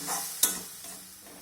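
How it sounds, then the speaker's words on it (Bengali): Spice paste with tomato and water sautéing in a pan: a soft, quiet sizzle with one sharp utensil scrape partway through, then a fading hiss. "জলটা দেওয়ার পর এখন আমি মশলাটাকে একটু ভালো করে কষিয়ে নেব"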